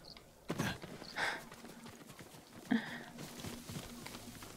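Scattered hoof clops from a horse in the video game Ghost of Tsushima, a few sharp knocks amid faint background noise, with a brief whinny-like tone partway through.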